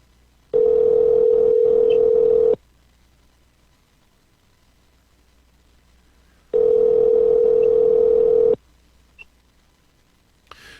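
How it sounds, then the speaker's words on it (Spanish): A telephone dial tone sounds while calling the mayor of San Germán, playing as two steady two-second tones separated by several seconds of near silence, loud and alone with no talking. "Estamos llamando al alcalde de San Germán, Virgilio Olivera"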